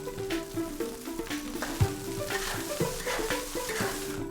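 Eel tossed with rice and scallions in a wok, sizzling and crackling with repeated scraping stir strokes and spatula clacks in a steady rhythm, fairly close.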